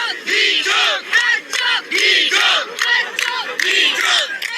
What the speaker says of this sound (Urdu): یہ جو ہر چوک ڈی چوک کے نعرے ہیں